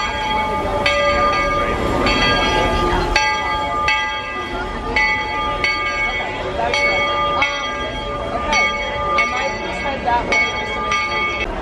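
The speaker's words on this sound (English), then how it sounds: "Here comes the train" Train pulling into a Magic Kingdom station, its bell ringing in a regular rhythm over rumbling wheels and crowd chatter, loud and close.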